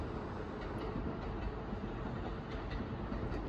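A train runs past an apartment in Kyoto, its steady rolling rumble and faint rhythmic wheel clatter filling the scene continuously at moderate distance.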